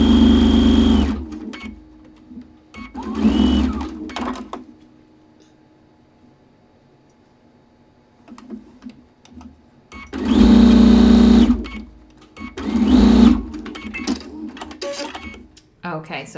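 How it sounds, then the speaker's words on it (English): A sewing machine stitches quilt block rows together in several bursts of steady rapid whirring, separated by quiet pauses, with a person speaking between runs. "now it's just time to sew these 2 rows together"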